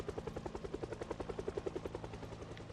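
The Project Zomboid helicopter's rotor beats a steady, rapid chop throughout, loud and continuous over a low engine drone, with no one speaking.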